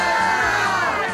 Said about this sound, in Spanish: Griten ustedes todos, griten un poco, griten.